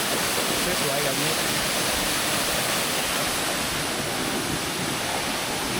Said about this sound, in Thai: เห็นน้ำตก